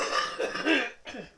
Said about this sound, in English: Sorry if you hear coughing in the background